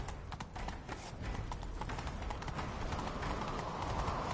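Horse hooves clatter in a steady galloping rhythm from the game Witcher 3, close and fairly loud throughout, with a faint airy rush rising toward the end and no talk.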